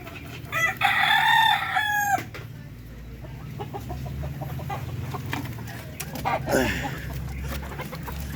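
Darag native chickens in their coop: a rooster crows loudly up close, followed by softer clucking and rustling from the hens with a low hum underneath.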